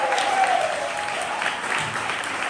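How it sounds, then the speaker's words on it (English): Sustained applause from a poetry slam crowd after a poet's scores are read out, a dense, even wash of many clapping hands at moderate loudness. "Applaud the poet."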